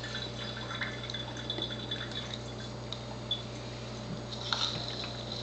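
Reverse osmosis water trickles slowly from a Tyent Athena L3 ionizer running on full flow, a faint, thin dribble with soft drips over a low steady machine hum.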